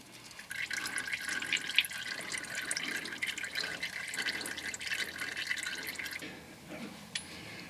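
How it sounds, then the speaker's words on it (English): Oil dripping from the oil filter of a 2018-2019 Chevrolet Equinox 1.6L diesel into a drain pan, a steady close patter of drips and trickling liquid that thins out toward the end. "Once most of the oil is dripped from the oil filter"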